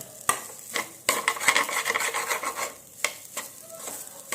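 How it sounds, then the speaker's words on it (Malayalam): Rice being roasted in oil with cloves and cardamom, stirred with a spoon against the pan in scraping, rasping strokes over a soft sizzle, close and alone. "ഏലക്ക ഇട്ടിട്ടുണ്ട് ഇതാ അരിയെ ഒന്ന് വറുത്ത പോലെയാക്കി എടുക്കാൻ"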